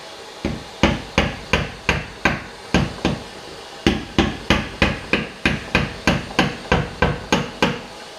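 Hammer taps on a car fender under repair, a steady series of about twenty sharp metallic strikes in two runs with a short pause between, close and fairly loud, no talking.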